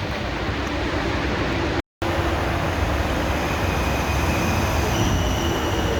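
A WMATA Metro train pulls into a station on the line to Ashburn, a loud sustained rumble of wheels and motors with steady rail noise close by, broken only by a brief dropout.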